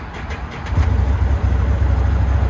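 A 2022 Can-Am Commander XMR 1000R side-by-side with a 100-horsepower V-twin and stock exhaust runs close by, a low steady engine rumble that swells slightly after the first second.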